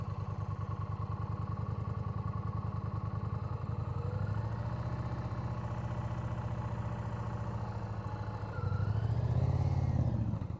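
A motorcycle engine idles, then rises in a couple of throttle swells during a first-gear friction-zone practice pull-away, steady and close with a low rumble.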